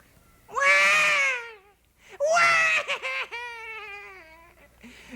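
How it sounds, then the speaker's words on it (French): A baby in a children's TV episode whimpers and then breaks into wailing cries, heard as two drawn-out sobbing bursts with shaky pitch. The second burst trails into broken whimpers, close and fairly loud. "Matou avait réveillé un bébé qui se met à pleurnicher."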